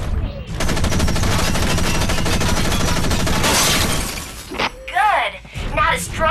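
Rapid mech gunfire from the Front Mission Evolved video game rattles loudly and continuously for several seconds, then gives way to short bursts under a voice talking.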